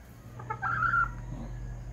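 A Sweater Kelso hen in a backyard gives a short, soft burst of clucking over a low steady hum, fairly close and quiet.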